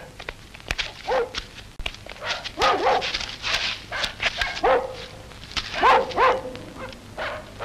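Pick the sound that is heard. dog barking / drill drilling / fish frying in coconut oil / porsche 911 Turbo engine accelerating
dog barking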